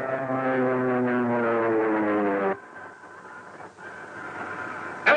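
An aircraft in a power dive in an old Marines war serial: a loud, steady engine drone that drops abruptly to a lower, rougher roar halfway through.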